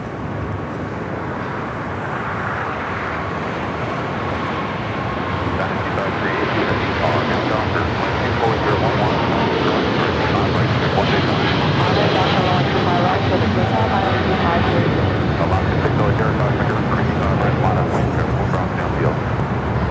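An Austrian Airlines jet airliner in older livery passes at LAX, a steady, loud roar of jet engines with wind buffeting the microphone across the whole stretch.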